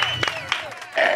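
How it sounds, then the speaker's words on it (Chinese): Studio audience clapping on a Taiwanese TV cooking show, with short bursts of applause and crowd noise mixed with voices and a louder swell of clapping at the end. "你可以拍手吧。"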